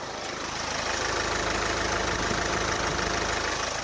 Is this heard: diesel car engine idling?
yes